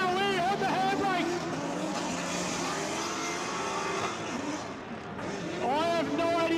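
A Nissan S13 drift car screams through a handbrake drift at a state drifting round, its engine note rising and falling steeply. A second car chases close behind, and a commentator talks excitedly over the engines throughout.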